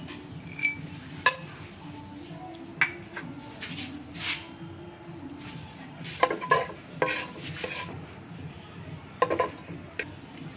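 A spoon stirs cinnamon and cardamom in a pan, giving scattered scrapes and light metallic clinks over a soft sizzle, quiet and close with no talking.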